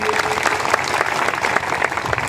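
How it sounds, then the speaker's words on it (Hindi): Loud crowd applause at an outdoor political rally in a Ghazipur village, welcoming a new party member, a dense continuous roar of many hands clapping close by with no pause. "जोरदार ताली बजा के उनका स्वागत करिए"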